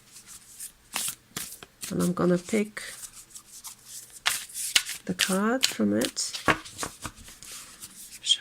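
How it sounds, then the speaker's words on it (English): Cards from an oracle deck shuffled in a run of quick riffling flutters, near and clear, with a person talking between and over the bursts. "shuffle a little."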